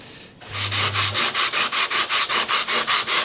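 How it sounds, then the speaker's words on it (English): Hand sanding of filler on a bonded windscreen frame mold, a rapid series of about fourteen rhythmic back-and-forth rasping strokes, close and clear with no talk. "we're getting down to the final sand now"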